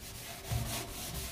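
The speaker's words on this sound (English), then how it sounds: "I'm just going to use the sponge and basically just scrape" A sponge scrubbing hard water stains off a steel kitchen sink makes a brief, close, gritty rubbing sound with one firmer stroke in the middle.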